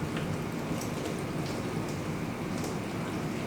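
Steady rain hisses without a break, a dense, even wash of falling drops with no talking.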